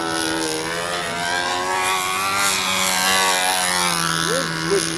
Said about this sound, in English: The motor's just pulling a plane around like a lawnmower engine.